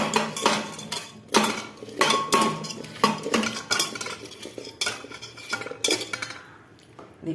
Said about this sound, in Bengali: ওর মধ্যে পরিমাণ মতো নুন, হলুদ দিয়ে মাখিয়ে নিলাম।